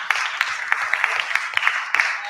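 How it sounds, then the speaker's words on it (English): An audience applauds at a Centre for Multiparty Democracy Kenya event, with dense, steady clapping from many hands lasting the whole moment. "Once again, let's clap for my talk."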